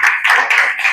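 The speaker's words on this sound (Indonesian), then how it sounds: "Tepuk tangan untuk Mas Dava," Quick rhythmic handclapping fills a classroom as pupils applaud a student, dense and fairly close, carrying on steadily for about a second.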